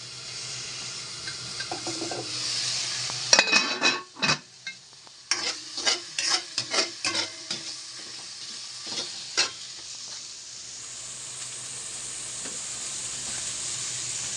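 Onion and garlic sauté in coconut oil in a pan, a soft sizzle broken by a burst of sharp spatula scrapes and clacks against the pan midway, then a steady hiss again, with no speech.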